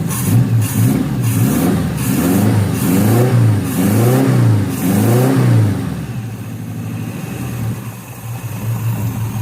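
A Vespa scooter engine revs close by, with a rhythmic series of rising and falling throttle blips before it settles into a steady, lower running drone.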